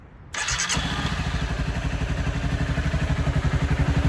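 A motorcycle engine running on a lean gasoline mixture starts up abruptly after a brief quiet moment, then settles into a loud, close, rapid and slightly uneven chugging idle that continues without any voices.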